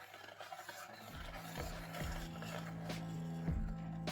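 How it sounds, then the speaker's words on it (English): Egg-thickened vanilla sauce is stirred constantly in a saucepan over low-medium heat, the spoon scraping the bottom in a soft, regular rhythm over a faint background hum, close and quiet, with no voices. "Stir constantly, scraping the bottom of the pan until it thickens into a rich sauce."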